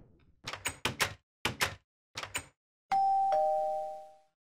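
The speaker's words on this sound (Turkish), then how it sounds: "Şu zili kıracaksın basmaktan." A doorbell in a Minecraft game rung repeatedly: five quick bursts of clicky pressing, then a loud sustained two-tone chime that rings out and fades, with no talking.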